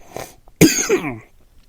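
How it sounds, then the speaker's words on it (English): A single harsh cough bursts out loud and close, with a raspy tail fading after about half a second; quiet breathy noise before it. "I'm still fighting this damn cough"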